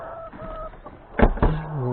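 Backyard coop of laying hens, with two short, loud bursts of clucking midway and softer fowl calls around them.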